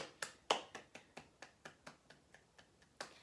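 Hands clap in a steady, even rhythm, about a dozen crisp claps fading slightly in loudness before a final stronger one, with no talk over them.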